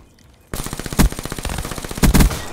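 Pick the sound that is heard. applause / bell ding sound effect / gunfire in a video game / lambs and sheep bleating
gunfire in a video game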